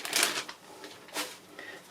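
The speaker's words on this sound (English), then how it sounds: "Another plastic bag." Crinkly plastic bag being handled and rustled while unboxing a Sega Genesis Mini, two bursts of crackling near the start and again just past the midpoint, close and fairly quiet.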